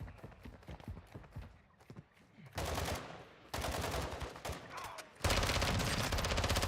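Shotgun fire in the video game Call of Duty DMZ, loud bursts of rapid gunfire that come in bunches of sharp reports, growing heavier and more sustained toward the end.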